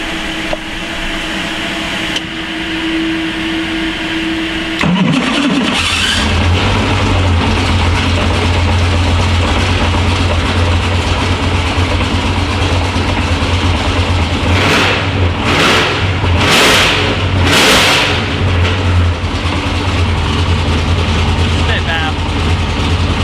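A 700hp DW86 engine, sitting for a year in a trailer, cranks and fires on 8 cylinders, then settles into a loud, steady low idle with several rising revs, near and continuous.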